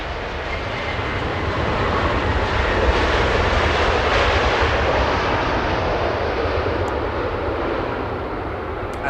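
A United Airlines Boeing 787 Dreamliner arrives at Los Angeles International Airport, a continuous, fairly loud jet rumble and hiss that swells gently toward the middle and then eases slightly.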